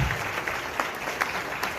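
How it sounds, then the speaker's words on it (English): Brief, fairly quiet applause from an audience honoring a congresswoman at a fall benefit event, a steady patter of hands that holds evenly and then begins to fade. "Let's give a huge round of applause to Congresswoman Delia Ramirez."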